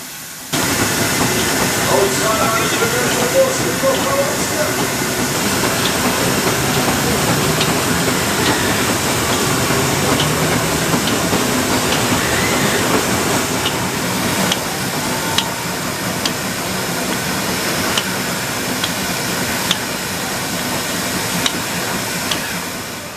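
A 1920 steam engine at work at a fairground, generating power for a ride: a continuous loud hiss and rumble with faint rhythmic ticks and knocks, people talking in the background.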